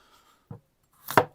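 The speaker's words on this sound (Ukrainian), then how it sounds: "ми порубаємо картоплю" Two separate knife chops through potatoes on a board, a light tap followed by a louder, sharper strike a moment later, close by with quiet between.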